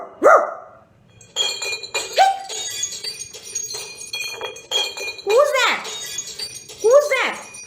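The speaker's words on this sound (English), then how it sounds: "Jimmy went berserk and started to bark." A dog named Jimmy barks repeatedly in sharp bursts amid glassy clinking and a busy background, with voices speaking between the barks.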